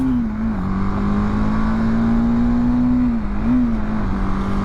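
A motorbike engine drones steadily while riding on a run out, a loud continuous hum whose pitch dips and rises slightly with throttle changes, with no talking.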